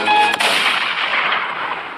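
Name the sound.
cartoon gunfire, bullets being fired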